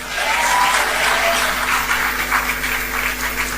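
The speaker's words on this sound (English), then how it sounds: "And will the ladies also clap for them?" Women in the audience at a project launch event clap for the men standing, a steady spread of applause over a constant low hum, with faint voices.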